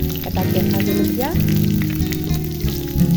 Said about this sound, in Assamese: এতিয়া গোটেইখিনি অকণমান সময় ভাজিম।